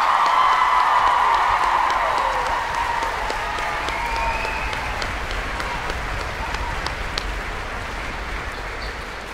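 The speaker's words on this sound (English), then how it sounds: "there was a lovely big standing O for voicemail of Westlake Boys High School as they leave the stage. Another round of applause, please." A concert hall audience gives a boys' high school choir a warm standing ovation as they leave the stage at a gala choral concert, with sustained clapping and some voices early that gradually eases in intensity.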